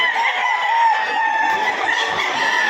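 Dense chorus of many chickens and roosters clucking and crowing at a crowded poultry market in Padre Garcia, loud and continuous with no pauses.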